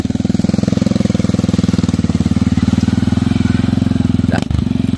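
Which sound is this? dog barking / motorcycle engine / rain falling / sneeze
motorcycle engine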